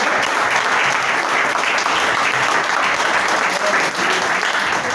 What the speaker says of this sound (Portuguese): Você que pode, aplaudir ao Senhor aí, pode ser